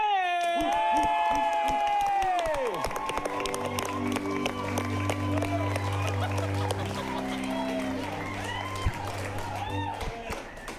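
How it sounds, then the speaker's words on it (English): A crowd claps and cheers loudly, sustained applause with whoops and shouts, while a voice speaks over it at the start. "Give a big round of applause to Elle McKay!"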